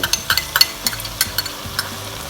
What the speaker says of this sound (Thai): เทส่วนผสมทั้งหมดนะคะ ลงไปเลย